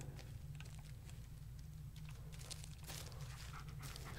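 A dog in the video game Blair Witch pants steadily and rhythmically up close over a constant low game background hum, with faint patter of movement.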